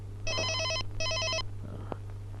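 A telephone rings in two quick electronic trilling bursts over a steady low hum, followed by a faint click.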